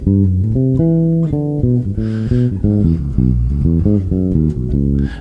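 A descending jazz line weaves over a ii–V change, its notes stepping steadily downward in a clear, close-up, unaccompanied run with no talking.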